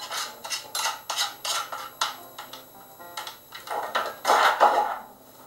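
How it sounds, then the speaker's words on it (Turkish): Ground clay being emptied out of a grinder, giving a series of close scraping, tapping and rattling bursts in uneven rhythm, with no voices. "Öğüttükten sonra boşaltıyoruz"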